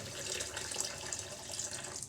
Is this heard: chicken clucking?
no